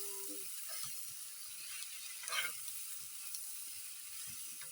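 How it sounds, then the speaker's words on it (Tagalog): Assorted vegetables sautéing in cooking oil in a simple provincial-style Filipino home dish with sardines, giving a steady, quiet, continuous sizzle that plays alone without talk. "Lutuin muna siya sa mantika."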